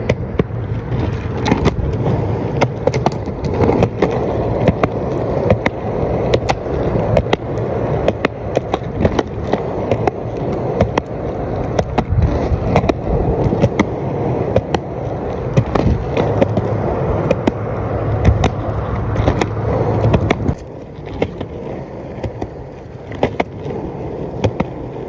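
Skateboard wheels rolling steadily over pavement on a casual day of skating, a loud, continuous rumbling roar broken by frequent sharp clacks and bumps from cracks in the surface, heard close and with no talking.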